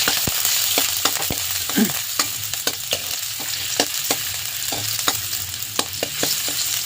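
Ginger frying in a small amount of cooking oil in a pan for an odong noodle dish with pechay: a steady close sizzle, punctuated by sharp clicks of stirring, with no talking.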